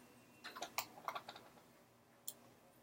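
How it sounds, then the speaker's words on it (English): Clicks at a computer while setting up a Dreamweaver server connection: a quick burst of small, close key-like taps, then a pause and a single isolated click, quiet and with no voices. "you can just click the test button"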